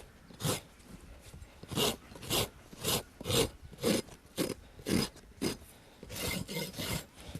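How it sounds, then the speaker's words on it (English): Farrier's rasp filing a horse's hoof, about a dozen steady back-and-forth strokes close and fairly loud, each a gritty scrape with brief gaps, quickening at the end. "run the rasp around and take that flare off"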